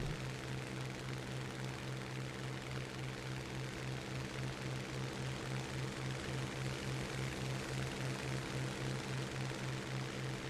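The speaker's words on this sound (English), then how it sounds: "his engine that is not damaged to almost power out of any situation" Propeller aircraft engine in a flight simulator battle game drones steadily throughout, a pulsing low throb with airscrew whirr, constant and alone with no talk.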